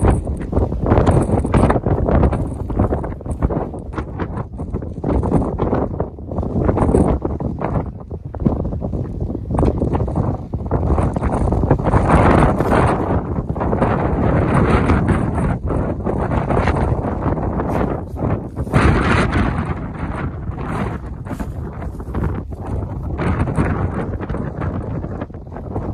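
Strong wind by the sea in Sardinia roars and buffets the microphone continuously, a loud broadband rush with gusts rising and falling throughout.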